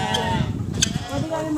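A goat bleats at Clark Safari, a wavering, nasal cry heard close by while people talk over it.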